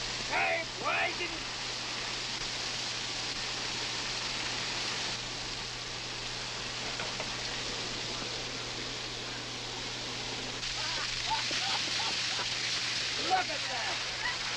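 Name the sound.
water gushing up from a well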